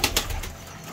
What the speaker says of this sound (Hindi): ये हमारा बड़ा कबूतर है